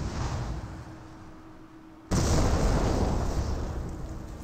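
A Nebelwerfer rocket artillery barrage in Company of Heroes, a steady roaring rumble that jumps suddenly into a louder, denser wash of explosions and sustained blasts.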